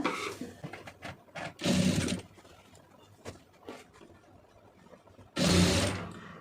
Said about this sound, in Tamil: இப்போ நீங்கள் மார்க் பண்ணதுலே கரெக்டாக தையல் போட்டுருங்க